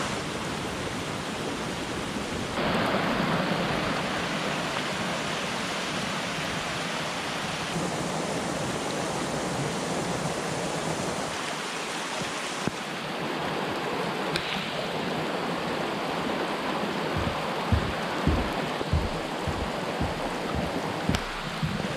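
Steady rain pours at a campsite on a cold, thundery day, a dense even hiss filling the whole stretch, with a few heavier drips and taps striking close by near the end.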